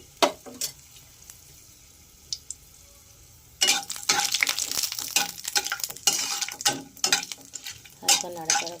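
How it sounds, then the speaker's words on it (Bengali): A dry red chilli and a bay leaf drop into hot oil. A few quiet clicks come first, then a sudden loud burst of crackling sizzle that keeps popping sharply, close up and with no speech. "একটা শুকনো লঙ্কা, ও একটা তেজপাতা ফোড়নে দিয়ে দিলাম।"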